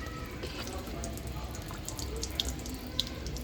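Water is poured onto a freshly potted variegated Black Rose Sansevieria snake plant offset cutting until the potting medium is soaked, giving a steady close trickle and splash with a couple of small drips near the end.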